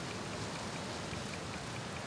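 Steady rain falling in the video game Outer Wilds, a dense, even hiss of drops that holds at one level throughout, fairly quiet and with no talking over it.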